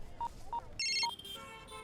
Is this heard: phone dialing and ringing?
yes